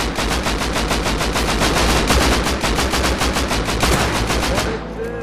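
Rapid automatic gunfire in the video game Rust, a dense, loud burst of evenly spaced shots firing continuously for nearly five seconds before cutting off abruptly into a brief quieter tail.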